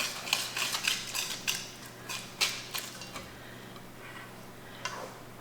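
Vanilla and sugar being stirred into zucchini, date and rolled oat muffin batter, a series of light ticking clinks of a utensil against a bowl, irregular and close, fading to sparse taps toward the end.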